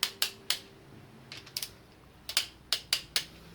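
Sharp metallic clicks from a torque wrench ratcheting down bolts on a Ford 302 V8 engine during assembly, arriving in short irregular bursts of two or three close, moderately loud ticks with brief pauses between.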